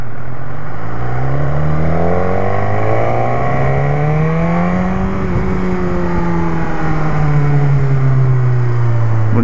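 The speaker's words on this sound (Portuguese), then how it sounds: "Bonito ronco, né?" A BMW S1000R motorcycle engine revs up and holds in first gear, its pitch climbing and then easing as the loud, close roar runs on without a break.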